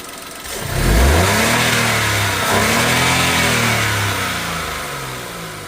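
The engine of a Datsun Go Plus seven-seater car climbs from idle to a loud, close revving roar under the accelerator, holds there, then gradually settles.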